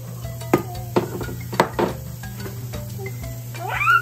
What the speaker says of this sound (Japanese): 炒めて